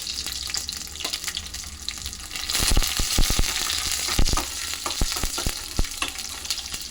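About ten garlic cloves, three hot green chillies and a couple of Guntur chillies frying in oil in a pan for tomato chutney, a continuous hiss with sharp crackles and spoon clatters, nobody speaking.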